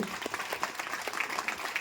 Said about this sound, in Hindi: तो महिलाओं के लिए थोड़ी जोरदार तालियां होनी चाहिए